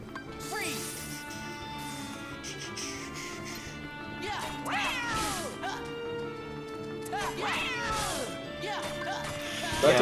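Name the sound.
cat meowing in video game Kingdom Hearts Birth By Sleep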